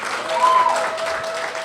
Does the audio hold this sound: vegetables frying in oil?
no